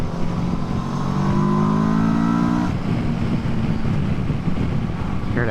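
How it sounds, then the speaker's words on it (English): A Kawasaki Versys 650 motorcycle engine revs up with a rising intake roar, close and loud with wind rush, then shifts and carries on under acceleration. "It's got a good intake sound to it."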